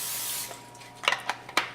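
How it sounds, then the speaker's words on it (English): Cooking spray hisses onto a baking pan in a few short, close bursts, with a quiet pause before the final spurts. "first you want to spray your pan"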